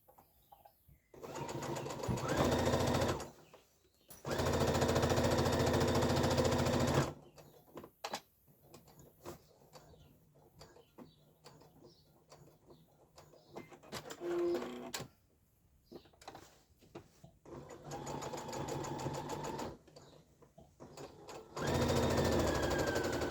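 A sewing machine stitches a backpack lunch bag in several loud bursts of fast, even whirring separated by pauses filled with fabric handling and small clicks.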